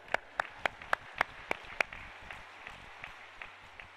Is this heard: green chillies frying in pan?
no